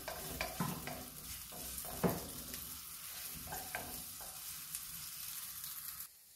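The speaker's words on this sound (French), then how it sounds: "Dans le wok que j'ai mis de l'huile d'olive, donc là je vais mettre les oignons émincés." Sliced onions sizzle in olive oil in a wok, giving a steady close frying hiss broken by a few light clicks and scrapes of stirring before the sound cuts off abruptly.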